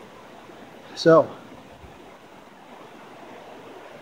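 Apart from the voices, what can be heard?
flowing creek, Abrams Creek in Smoky Mountains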